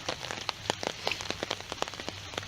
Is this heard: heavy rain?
yes